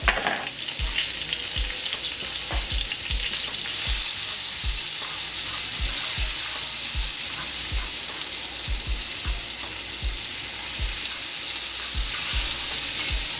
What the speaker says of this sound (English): We're gonna go in with about a whole onion, chopped up kind of roughly